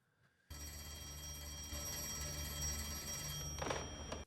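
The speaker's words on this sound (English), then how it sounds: "So the phone's rung." Old-fashioned telephone bell ringing in a Peaky Blinders drama scene, a sustained metallic ring beginning abruptly and continuing steadily for several seconds with a brief extra rattle near the end, no talk.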